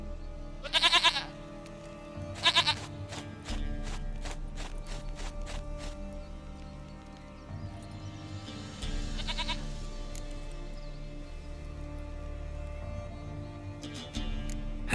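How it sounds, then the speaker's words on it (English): Goat bleats from The Witcher 3 video game: a few short, wavering bleats spaced across a steady ambient game backdrop with faint clip-clop and mechanical noises, fairly close and moderately loud. "Goat of mine, dearest, sweetest goat."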